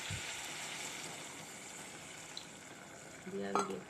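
A spoon scrapes and stirs through a pan of fish curry with catfish and seeds, with a soft background sizzle, faint and continuous, ending in a short metallic clink.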